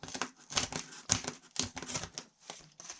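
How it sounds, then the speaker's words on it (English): Scissors cut through paper to shape a bat body piece for a papier-mâché armature, giving irregular crisp snips and rustling bursts at close range with short pauses between strokes. "I'm just going to cut this out."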